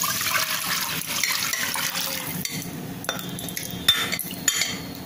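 Pakora kadhi batter poured into a pan for Punjabi kadhi, a steady liquid pour with a few light clinks of a utensil against the pan, heard close and alone.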